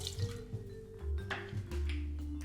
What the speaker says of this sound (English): We've got a large pour of gin